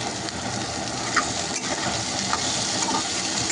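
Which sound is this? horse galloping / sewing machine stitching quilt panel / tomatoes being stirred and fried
tomatoes being stirred and fried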